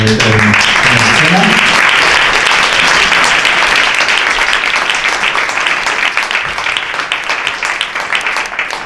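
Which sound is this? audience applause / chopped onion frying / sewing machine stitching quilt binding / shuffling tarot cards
audience applause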